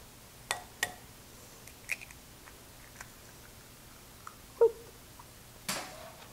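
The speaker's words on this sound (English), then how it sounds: "in a medium bowl, we're going to crack in 4 eggs for this pizza" Eggs cracked one after another into a medium bowl for a breakfast pizza: a few faint, sharp taps and cracks spaced out over several seconds, ending with a light wet drop, in a quiet kitchen.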